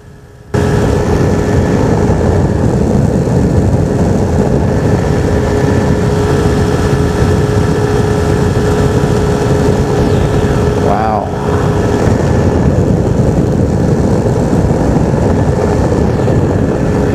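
Steady propeller-aircraft drone inside the cabin of a light plane flying over an airfield at dusk, a loud constant engine and airscrew roar that barely changes, with a brief whooshing swell partway through.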